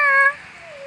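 A single short cat meow, close and clear, drawn out briefly before trailing off softly.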